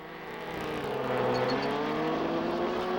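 1975 Formula Atlantic race cars roar around a drying track, a steady loud engine drone with layered harmonics swelling slightly as the cars pass, continuous throughout.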